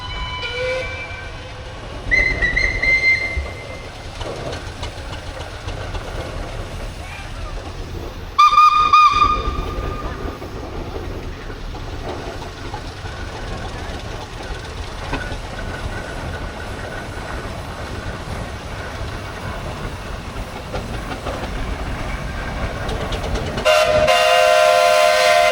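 A steam engine at the Great Northern Road Run in Omagh rolls along with rumbling wheels, punctuated by two short whistle blasts early on and another near the end.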